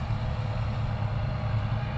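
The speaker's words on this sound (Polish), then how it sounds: "O, teraz silnik." Steady low rumble of a Bizon combine harvester's engine running during harvest, a constant mid-distance drone with no speech over it.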